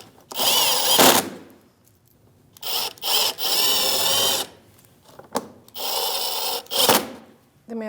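A power tool with a 7mm socket runs bolts off the front bumper bracket of a 2016-2025 Chevrolet Malibu, with several loud whirring bursts of about a second each, separated by short pauses and clicks.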